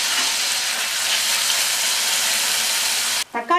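Chopped tomato hits hot oil with frying onion and ginger-garlic paste for egg Maggi noodles, a loud, steady, close sizzle that runs unbroken before a brief clatter at the end, with no talking.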